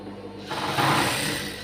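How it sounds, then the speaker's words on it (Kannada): A sewing machine stitches a prince cut blouse, a short steady mechanical whir that rises after a brief quiet start and runs on alone at moderate loudness. "ಆದಷ್ಟು ಪಕ್ಕ ಹಾಕ್ಕೊಂಡೆ ನಾವು ಸ್ಟಿಚಿಂಗ್ ಮಾಡ್ಕೊಳ್ಳೋಣ"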